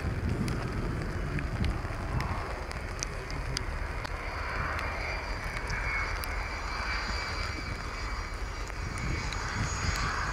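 A loud, steady airplane engine roar with rushing wind noise holds throughout, constant and unbroken, as an aircraft lands and brakes at the Royal International Air Tattoo air show.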